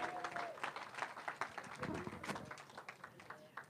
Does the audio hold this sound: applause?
yes